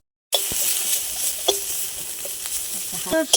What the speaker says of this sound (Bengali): এবার এটা আমি ভালো করে ভেজে নেব।